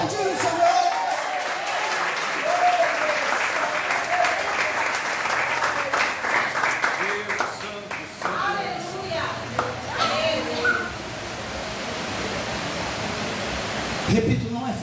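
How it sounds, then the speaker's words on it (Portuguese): A church congregation applauds in a dense, steady wash of clapping at an anniversary service, with voices calling out over it before the applause thins near the end. "Pode aplaudir o Senhor."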